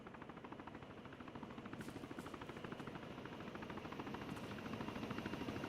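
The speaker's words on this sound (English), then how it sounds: "Oh, this sounds like a helicopter." Military helicopter approaching: steady, dense rotor chop and engine roar that builds slightly over several seconds, loud and continuous with no clear speech.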